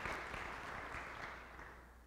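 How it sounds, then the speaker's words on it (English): Church congregation applauding during a Sunday sermon service, a steady, fairly quiet wash of clapping that holds evenly and tapers slightly toward the end. "Can we give them a round of applause?"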